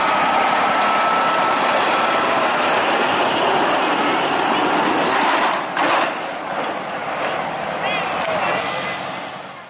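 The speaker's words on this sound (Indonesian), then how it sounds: "Disusul lokomotif kecil dengan gerbong penolongnya." A small sugar cane locomotive hauling helper wagons at the Semboro sugar mill rumbles loudly and continuously with a broad engine roar and rattling, easing slightly toward the end.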